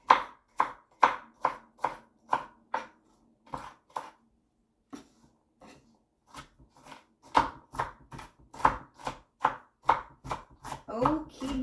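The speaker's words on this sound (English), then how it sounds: "so there is the green pepper all cut, the onion all cut" A kitchen knife chops green pepper and onion on a board in a run of sharp, evenly spaced taps, with a short pause midway before faster, busier cutting resumes; close and clear with no talking.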